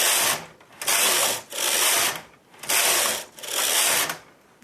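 A knitting machine carriage sweeps back and forth knitting rows of fern lace, making four loud, even rasping passes about a second each with short pauses between, and no voices.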